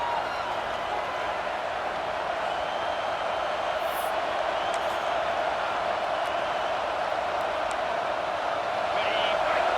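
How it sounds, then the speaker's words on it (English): A stadium crowd in a college football video game, a continuous roaring murmur of many voices that holds steady and swells slightly, with faint whistles and cheers through it. "And the crowd coming to life here"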